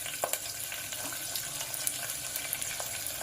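Onion, carrot and other vegetables for masala bath fry in a pan over medium flame with curry leaves and spices, giving a steady, moderately loud hiss and crackle with small pops throughout.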